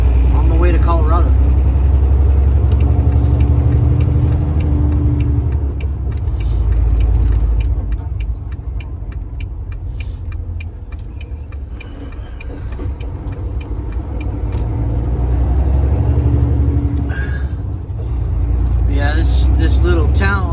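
Steady road rumble and tyre roar from a car cruising east on the freeway, a continuous loud drone with slight swells, with someone talking over it for much of the time.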